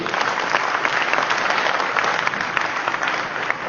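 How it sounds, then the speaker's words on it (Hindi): An audience at a network marketing business seminar claps loudly and steadily, a dense, sustained wash of many hands lasting throughout with no talk over it. "इसके लिए जोरदार ताली होनी चाहिए"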